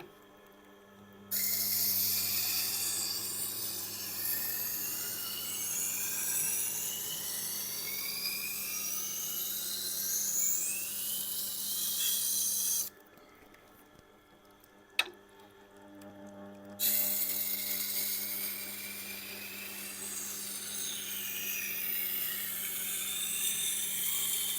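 A Miyabi santoku knife ground on a Tormek sharpener makes a steady whirring, scraping hum that drops out for a few seconds of quiet with a single sharp click, then resumes at the same level.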